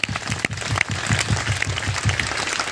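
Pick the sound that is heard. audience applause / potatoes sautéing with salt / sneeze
audience applause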